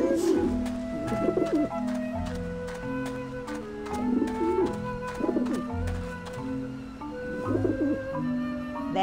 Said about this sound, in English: Right. Nice pigeons.